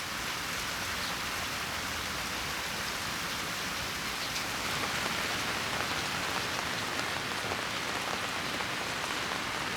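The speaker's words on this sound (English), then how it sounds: "Mingling with the sound of falling raindrops, peculiar sounds echo in the Shoyu brewery." Steady rain falls on a shoyu brewery in Kyoto during the June rainy season, a dense, even hiss of drops on surfaces that holds at the same level throughout, with no voices.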